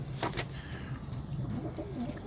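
Pigeons in a loft, including a smoky youngster and a double-beaded Arab, coo softly and continuously at close range, with low murmuring calls overlapping over faint background rustle.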